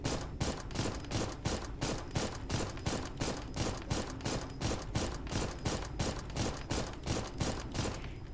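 Rapid automatic weapon fire in the mech game Armored Core, a steady unbroken stream of evenly spaced shots at a fast rhythm, fairly quiet and with no talking.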